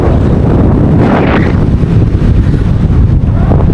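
Strong wind roars across the microphone at a high mountain viewpoint in Theni district. It is a loud, continuous buffeting rumble with no pauses and no talk.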